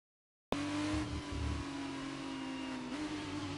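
Race cars run on a track during a racing event, with a loud close engine drone holding a steady pitch, then a rise in tone near the end, heard without talk.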